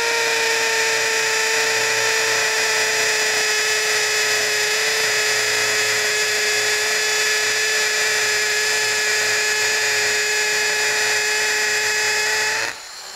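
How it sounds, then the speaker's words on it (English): A Ryobi 18V ONE+ HP brushless hammer drill bores a 3/8 Milwaukee bit into an older concrete block, giving a loud steady high-pitched whine with a hammering buzz that runs unbroken for about thirteen seconds before cutting off at the end. "we are hammer drilling with a 3/8 Milwaukee bit"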